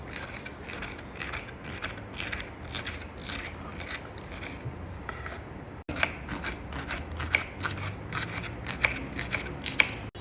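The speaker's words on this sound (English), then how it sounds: "Trim the top and tail of the okra and we'll just cut it into small pieces like this." A knife trims and slices okra (lady's finger) into small pieces for a vegetable curry, giving a steady run of crisp, close cutting taps with no talking.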